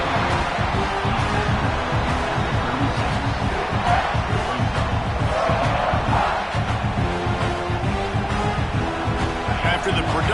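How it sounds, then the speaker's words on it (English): Dense, steady roar of a football stadium crowd fills the whole stretch, loud and continuous with swells of cheering, while a play-by-play announcer talks over it throughout. "This crowd bringing the energy and noise early."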